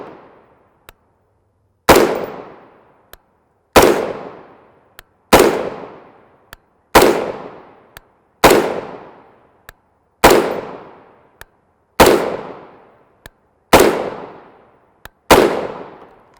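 Rifle firing 5.56x45mm M193 55-grain FMJ ammunition, nine sharp, loud, evenly spaced shots about two seconds apart, each with a decaying echo tail and a faint click between shots.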